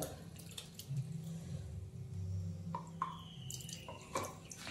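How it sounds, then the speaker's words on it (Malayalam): Tamarind water being strained for onion sambar, faint drips and light trickling with a few small clinks, quiet and close. "പുളിയുടെ വെള്ളം അങ്ങനെ അരിച്ചെടുക്കുക."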